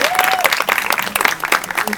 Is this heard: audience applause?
yes